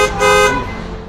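A loud car horn blares close by in one long, sustained honk over the low rumble of road traffic.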